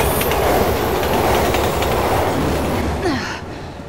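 A subway train rushes through a tunnel in the video game Resident Evil 6, a loud close rumble with rhythmic wheel clatter and a brief squeal, passing by and trailing off near the end.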